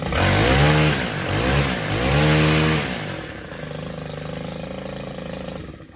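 A petrol-powered garden power tool, a torquey machine suited to thick grass, revs loudly in surges, then is switched off and winds down to a lower, steadier idle-like hum before fading near the end.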